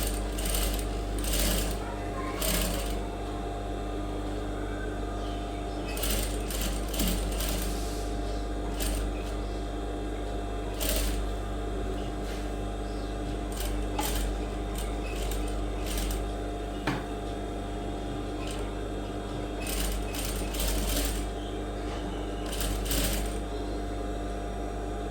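A sewing machine runs steadily while stitching the neckline of a lined georgette kurti. The motor hum is continuous and close, with scattered sharp clicks and knocks over it and someone talking now and then.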